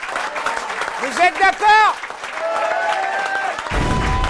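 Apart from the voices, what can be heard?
audience applause for contest winners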